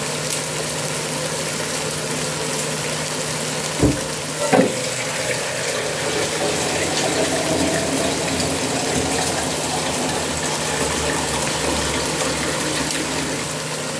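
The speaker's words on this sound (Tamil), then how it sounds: "இந்த கட்டத்தில் நாங்கள் தண்ணியை சேர்த்து கொள்ளுவோம்" Water gushes steadily into a pot of large chicken pieces for Arabian chicken majboos, a loud continuous pour running for many seconds, close by, with a couple of brief knocks near the start and no talking.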